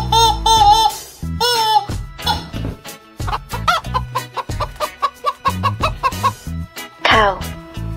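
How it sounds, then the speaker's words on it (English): A chicken clucks in a quick series of short, close calls, with a louder burst near the end. No one speaks. "Chicken."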